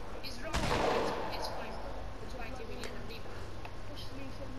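Gunfire in the Fortnite video game: a sharp shot near the start with a burst of crackling, then faint scattered pops and game noise continuing under talking.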